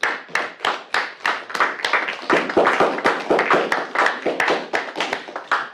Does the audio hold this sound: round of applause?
yes